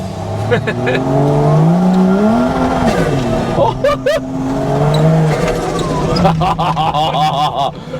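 An old Toyota Land Cruiser FJ45 engine runs and revs loudly with shifting pitch while driving, tires squealing briefly, while voices talk over it.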